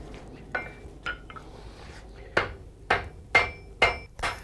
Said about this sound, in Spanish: Y después golpear la unión hasta que las dos piezas quedan soldadas.